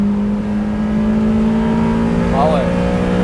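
Toyota MR2 Mk1 engine revving hard at high rpm, a loud steady mechanical drone with a brief rising sweep near the end, heard from inside the car.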